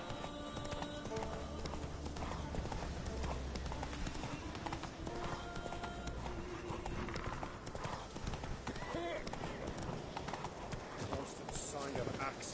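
A horse in a PS4 video game clip-clops along in a steady hoof rhythm under continuous game background sound and music, with other game sounds mixed in.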